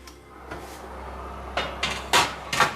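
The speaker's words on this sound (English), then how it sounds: "Okay, so we'll pop this in the oven." A vegan banana cake tin goes into a preheated fan-forced oven, giving a few close knocks and clunks of metal and the oven door, with several sharp thuds near the end and no talking.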